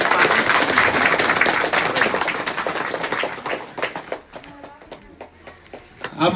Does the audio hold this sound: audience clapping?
yes